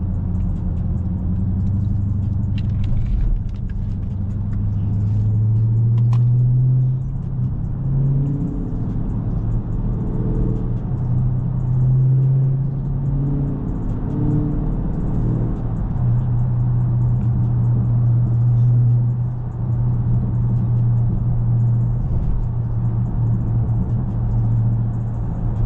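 From inside a Dodge Scat Pack driving on a Chicago highway, a loud engine drones and rumbles in surging waves as it accelerates and eases off, over steady road and tire roar.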